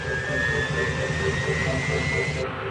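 Steady roar of a super jumbo airliner's jet engines, a loud, unbroken broadband rush with a thin rising whine running through it, heard close and alone.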